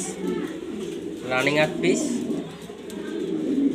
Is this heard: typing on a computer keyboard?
no